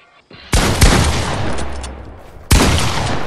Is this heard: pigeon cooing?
no